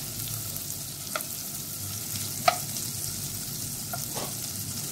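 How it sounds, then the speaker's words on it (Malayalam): Crushed vermicelli fries in butter over a low flame, a soft, steady sizzle with a few light scraping clicks from stirring, close and alone. "ലോ ഫ്ലെയിമിൽ വെച്ചിട്ട് വേണം നമ്മുടെ സേമിയ ഫ്രൈ ചെയ്തെടുക്കാൻ"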